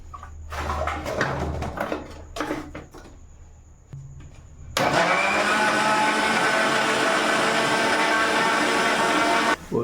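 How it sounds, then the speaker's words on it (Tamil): A mixer grinder blending cassava with water into a smooth fufu paste: a few knocks and handling clatter first, then the motor kicks in loud and close, a steady roaring whir to the end. "இப்போ நம்ம வந்து இதை ஃபுல்லாக பேஸ்ட்டாக அரைச்சி எடுத்துக்க போகிறோம்"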